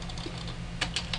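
Computer keyboard typing of a search query in log software, a few crisp close keystrokes over a faint steady hum.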